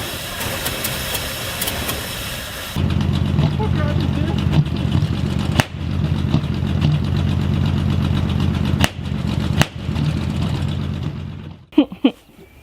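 An old truck engine, left sitting for 15 years, cranks and then runs with a steady low rumble. Sharp clanks and knocks break in over the engine, and it cuts out near the end.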